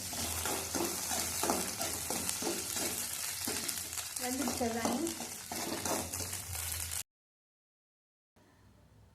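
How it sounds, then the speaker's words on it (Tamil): Red chillies and onion frying in hot oil for tomato chutney, a loud continuous sizzle with occasional stirring scrapes against the pan, ending abruptly in silence before faint room noise returns. "சிகப்பு கலர் மிளகா ஆட் பண்ணிக்கலாம் அதை கொஞ்சமாக வதக்கிட்டு ஒரு பெரிய வெங்காயமாக ஆட் பண்ணிக்கோங்க"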